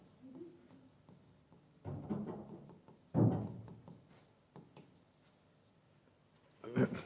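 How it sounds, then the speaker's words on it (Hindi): Marker or chalk scratches across a classroom board during a Grade 9 chemistry lesson, coming in short strokes and bursts over several seconds, with a teacher's voice speaking in between. "तो इसको हम लिख रहे हैं"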